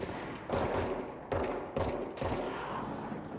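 Gunfire in the game Control comes as a handful of short, punchy bursts separated by brief gaps, each shot cluster sharp and close at moderate volume.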